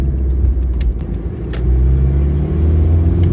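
An old, lumpy 30-year-old Ford turbo diesel car engine idles steadily nearby, a deep continuous rumble with a faint rattle and a few light clicks and jangles over it, no talking.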